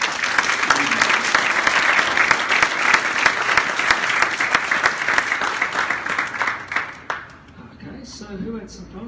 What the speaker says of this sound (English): I think we should give him one more round of applause, everyone.